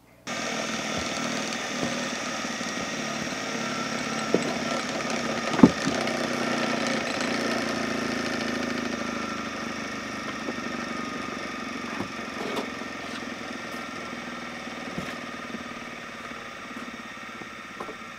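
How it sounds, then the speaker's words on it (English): A handmade survival knife cut from a hockey stick being ground, giving a steady, loud grinding drone that runs without pause, with a few sharp knocks along the way. "I'm going to give it one more little grind here"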